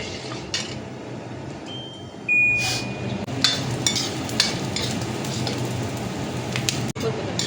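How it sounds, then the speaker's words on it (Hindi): Edible gum (gond) fries in hot ghee with a steady, moderately loud sizzle and crackle, joined by a short bright beep partway through and occasional utensil clinks. "अब ये जब घी में जाएगा तो फूल के मोटा हो जाएगा, इसको गोंद कहते हैं।"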